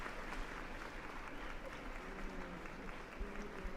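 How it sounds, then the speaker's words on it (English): Faint applause from a small group, a steady patter of clapping heard from a distance and not very loud. "Can we give a round of applause to you and to me?"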